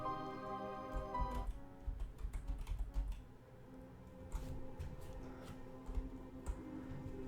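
Keys on a computer keyboard are pressed in quick, irregular runs of clicks while someone programs a game from scratch, close and fairly quiet, with short pauses between bursts.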